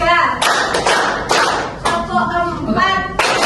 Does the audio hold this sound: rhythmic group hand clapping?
yes